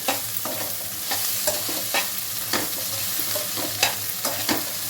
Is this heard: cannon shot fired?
no